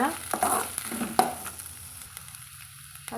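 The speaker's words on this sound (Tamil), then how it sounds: "நல்லா பொன்னிறமாக வர வரைக்கும் இதை நம்ம வதக்கி வதக்கலாங்க" Ingredients sautéing in a pan toward golden brown, soft sizzling broken by several sharp spoon clicks and scrapes, the frying settling quieter toward the end.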